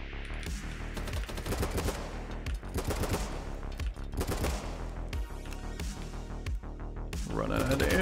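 Rapid bursts of automatic gunfire in the video game BattleBit Remastered, repeated volleys close and loud across the whole stretch, with brief gaps between strings of shots.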